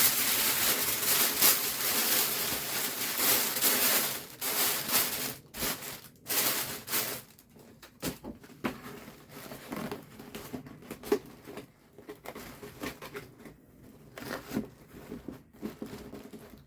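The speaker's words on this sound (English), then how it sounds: "I'm going to make sure this foil is the shiny side up and then crinkle it inwards." Shiny-side-up aluminium foil being crinkled inwards by hand inside a proposal gift box: loud bursts of crackling and crumpling up close, fading into quieter, scattered rustles and crinkles.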